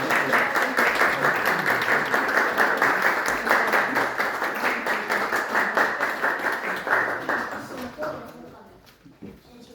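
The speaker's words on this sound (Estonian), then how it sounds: "Aplausi." Audience applause inside a church at a birthday celebration in Nõva, a full room of steady rhythmic clapping that holds for several seconds, then thins and fades out near the end.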